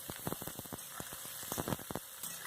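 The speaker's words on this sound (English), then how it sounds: "chopped onion, adding, and now frying well" Soft crackling and popping sizzle from onions frying in hot oil, irregular bursts over a quiet hiss, close and fairly faint.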